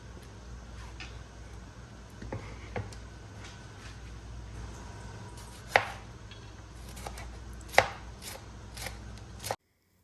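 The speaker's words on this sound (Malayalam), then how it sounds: "സവാള, വെളുത്തുള്ളി, ഇഞ്ചി, പച്ചമുളക് ഇത് ഇത്രയും കൂടെ ഒന്ന് അരിഞ്ഞെടുക്കുന്നുണ്ട്" Steady knife chopping of onion, garlic, ginger and green chilli on a board, quick light taps with a few sharper, louder strikes near the end, no talking.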